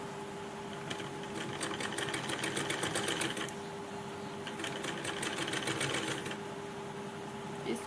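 A sewing machine stitches fabric, can-can and lace together in one pass, running in two steady rapid bursts of clatter close by, with a constant hum underneath and no talking.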